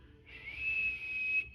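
A voice imitates the thin, steady whistle of air leaking from a hole in an air mattress with a built-in pump, a faint high tone held for about a second over low background hiss.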